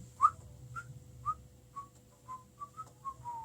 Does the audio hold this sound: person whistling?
yes